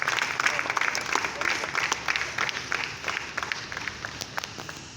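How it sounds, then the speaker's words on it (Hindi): Applause from the audience at an Urdu stage show, dense clapping spread across the hall with no break, steady and moderately loud throughout. "आपकी जोरदार तालियां होनी चाहिए"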